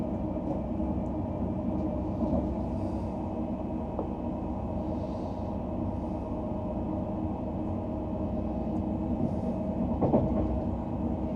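TransPennine Express train running towards Manchester Piccadilly, heard from inside as a steady low rumble with occasional faint clicks and squeaks, continuous and even throughout.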